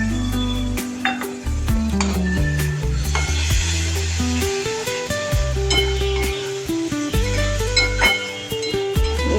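Soaked Gobindobhog rice fries in a pan for a Bengali aar fish dish, with a steady close sizzle and repeated utensil stirring and scraping against the metal, all under continuous background music.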